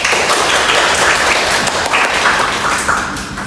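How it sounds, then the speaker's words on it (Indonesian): Audience applause after a talk at an anti-smoking health outreach session, a dense, steady wash of many hands clapping at close range for several seconds with no talk over it. "Berikan aplaus kepada Kak Setia Budiana."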